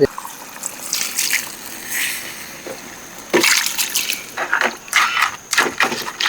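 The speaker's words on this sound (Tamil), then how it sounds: "ரெண்டிடிச்ச சட்டியை நல்லா கழுவி அப்படியே இதில் ஊற்றிடுவோம்" Rinse water is poured from a washed pounding pot into a pot of crab rasam. Irregular splashing and trickling bursts come close up, with no talk.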